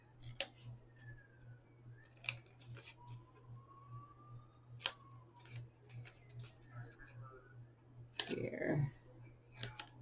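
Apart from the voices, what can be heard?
trimming with scissors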